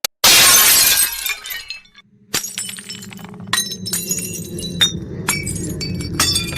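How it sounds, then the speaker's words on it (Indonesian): Dishes and plates shatter in a loud crash of breaking crockery, followed after a brief pause by scattered clinks and tinkles of shards settling and rattling. "terdengar bunyi pinggan mangkuk seperti pecah berantakan"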